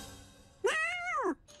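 A cartoon kitten gives one clear, high, rising-and-falling meow, close and distinct, with a brief tail of faint tone after it.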